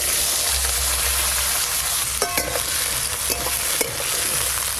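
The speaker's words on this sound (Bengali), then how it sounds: "আলু আর বেগুন একটু হালকা করে ভেজে নিয়েছি।" Potato and eggplant pieces fry in hot oil with a steady, loud sizzle, broken by a few scraping stirs of the spatula, with no voices.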